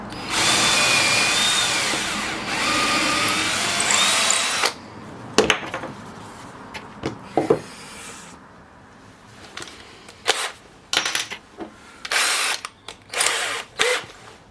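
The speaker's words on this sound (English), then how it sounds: "Drill a hole in the centre of there" A power drill bores a hole through the centre of a part salvaged from a TV, first one long loud whine, then a run of short bursts and stops separated by quiet gaps.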